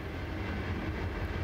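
Keokuk Junction Railway freight train hauled by GP-20 locomotives rolls steadily past, a continuous loud rumble of railcars with faint clickety-clack and no speech.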